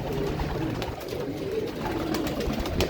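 Pigeons perched together up in a tree coo softly and repeatedly against a steady outdoor background, with no talking.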